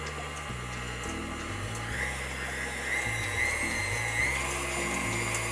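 An electric mixer churns cookie dough with a steady, close whirring motor whose pitch steps up and down as the beaters work. It runs continuously for several seconds, and no one speaks.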